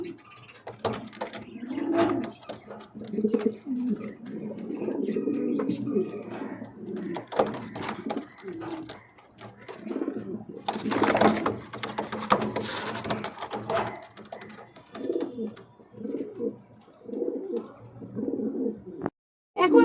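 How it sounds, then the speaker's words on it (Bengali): Pigeons at a bird market, including a large pair offered for sale, coo repeatedly in soft low bursts close by, with talk running over much of the recording. "একদম ফ্রেশ কবুতর"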